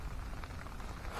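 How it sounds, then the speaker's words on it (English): Rain falls at a camp, a soft, steady hiss of drops on surfaces, faint and brief with no voices. "it started raining"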